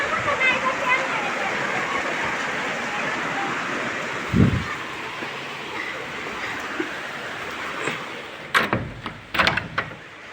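Heavy rain pouring down steadily on a village house, a dense continuous wash of noise, with a few sharp knocks and bangs near the end.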